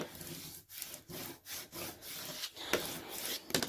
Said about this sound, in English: I just have a piece of transfer tape. Just put it over top of it. Squeegee it down.